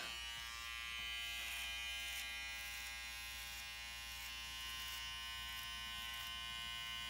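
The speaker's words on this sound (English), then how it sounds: "I just don't want to get too close with this clipper and mess it up." Electric hair clipper buzzing close by as a barber cuts a tapered outline, a steady high-pitched motor hum that holds unchanged throughout with no talking.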